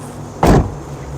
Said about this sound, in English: Door shut sounds.